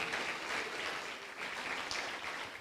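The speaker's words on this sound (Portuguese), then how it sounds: "Dá uma salva de palmas para Cristo." Congregation in a church applauding together, a steady wash of clapping at moderate level with no talk over it.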